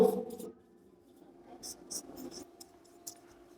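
Marker or chalk scratching across a board during a chemistry lecture, with a few short quick strokes in bursts after a brief murmur of a voice at the start, close but faint.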